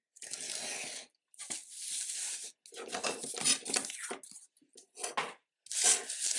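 A piece of material being cut to size for a desk note pad holder, with repeated rough rasping strokes in bursts of about a second, separated by brief pauses, close and fairly quiet, with no talk.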